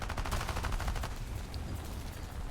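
Yak-3 fighter's guns in the air-combat game War Thunder firing a rapid burst, a dense rattling stream of shots for about a second that then fades into engine and wind noise, moderately loud.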